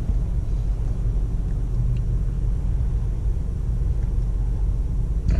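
A 2019 Toyota RAV4 XLE AWD cruising in normal driving mode, a steady low road rumble and engine drone heard from inside the cabin, continuous and even with no talking.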